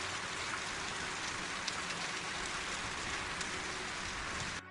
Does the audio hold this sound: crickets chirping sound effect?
no